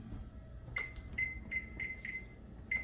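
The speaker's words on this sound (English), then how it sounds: "let's put a timer on." A kitchen timer, set while lasagna bakes, sounds a series of short, high, faint electronic beeps at a steady pace over a low room hum, with no talking.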